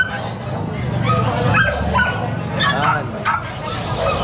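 A one-year-old male American Bully barks and yips close by, with whimpering calls mixed in, over a steady murmur of people talking throughout.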